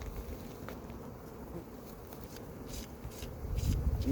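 A low, steady hum of many honeybees buzzing close by at an open hive, with occasional scraping and tapping noises of hive frames rising near the end.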